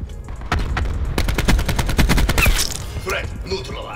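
Rapid automatic gunfire from Call of Duty Modern Warfare on the Hacienda map, in a loud, dense burst of repeated shots lasting a couple of seconds, with someone talking around it.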